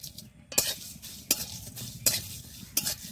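Whole cumin and fennel seeds frying in hot oil in a pan, a soft steady sizzle broken by four sharp scraping stirs spaced under a second apart, close and moderately quiet.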